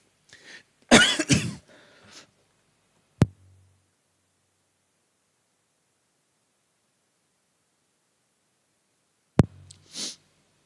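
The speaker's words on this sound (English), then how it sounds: "To cough my lungs up, apparently." A harsh fit of coughing near the start, a couple of rapid hacking bursts, followed by long quiet stretches broken by a sharp click and a faint throat noise.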